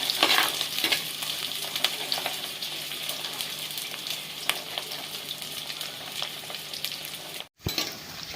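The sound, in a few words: shallots and garlic sautéing in a pan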